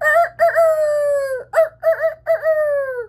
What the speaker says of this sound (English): he had a rooster with a cock-a-doodle-doo